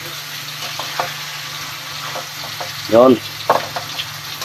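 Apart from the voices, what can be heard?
onions being stirred and frying in a pan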